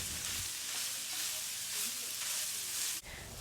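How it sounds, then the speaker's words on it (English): Sweet Italian sausage sautéing in a pan at medium heat, giving a dense, continuous loud sizzle close by that cuts off abruptly near the end. "I'm going to go ahead and saute this on a medium temperature for about 10 minutes"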